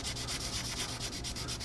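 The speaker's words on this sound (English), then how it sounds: "Now, I'm going to go ahead and take my sanding sponge. It's my 600 grit." A 600 grit sanding sponge rubs over a small aluminum scale model car part in quick, rhythmic back-and-forth strokes, a soft close scratchy hiss with no talking.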